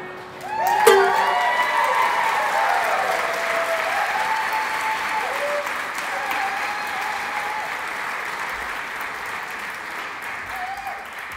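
A live comedy-show audience bursts into loud applause and cheering after a banjo performance, with whoops over sustained clapping that fades only slightly across several seconds.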